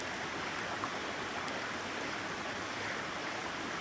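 Clean, untouched creek water flowing steadily in the Blue Mountains, a continuous broadband rush with no pauses, moderately close and alone without voices.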